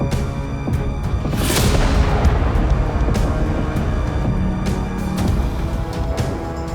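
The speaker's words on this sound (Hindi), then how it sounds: "टैंक के गोले का धमाके का शोर थमता है" Heavy, continuous rumbling with sharp blasts and crackling bursts of tank shell explosions in Sievierodonetsk, Ukraine, echoing nearby without pause.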